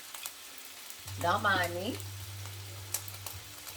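Food frying in a Cuisinart non-stick skillet: a low, steady sizzle continues close by while a person speaks briefly over it, with a few faint clinks around the pan.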